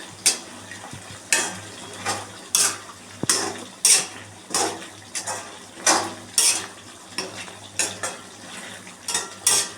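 Cumin powder is stirred into Chettinad pepper chicken frying in a pan, with repeated metal spoon scrapes and clanks against the pan in an uneven rhythm over a low, steady sizzle.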